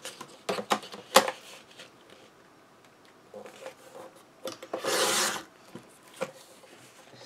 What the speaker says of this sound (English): Let's go ahead and take off that trim piece here.